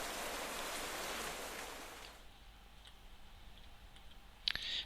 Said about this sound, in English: Stupid rain.